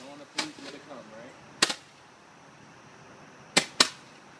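Quiet fireworks, set off at night, give off a few sharp, sparse pops. There is one near the start, one in the middle and two close together at the end, with brief talk early on.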